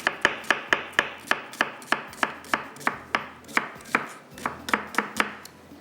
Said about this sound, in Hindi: प्याज को स्लाइस में कटिंग कर लेंगे।